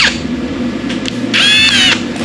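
A small electric drill whirs briefly in short bursts, its pitch rising as it spins up near the end, close and fairly loud.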